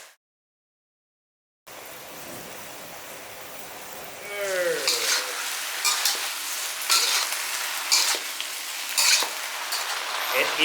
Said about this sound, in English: Fry and fry. Yeah. Big flame.